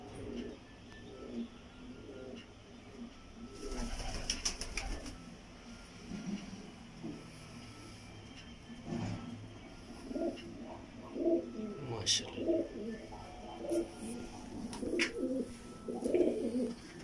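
Pigeons coo repeatedly in soft, throaty bursts, with scattered chirps and some rustling around them.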